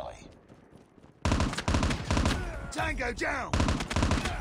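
M16 assault rifle with a recon sight firing in Call of Duty Mobile, a quiet lead-in then a sharp onset of loud, rhythmic burst fire repeating steadily, with a short spoken in-game callout in the middle.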